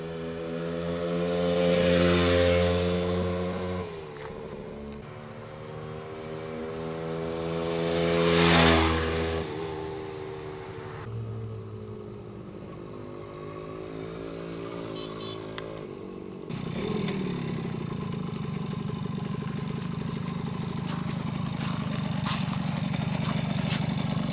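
A 1971 Kawasaki GT 100 Grand Touring motorcycle's two-stroke engine runs steadily, rising in two loud revs before settling into a constant idle-like drone that continues to the end.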